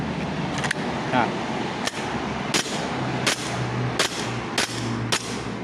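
A repaired Army R17 gas airsoft pistol fires about seven sharp, snappy shots at an uneven pace, each a crisp pop with a short gassy hiss, close up over a steady low hum.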